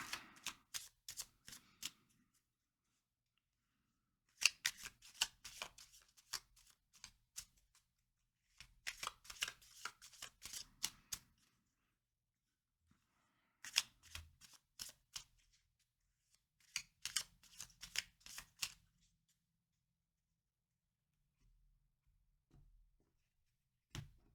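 Playing cards being shuffled during a tarot reading, in quiet riffling bursts of crisp flutters separated by pauses, faint and close with no talk.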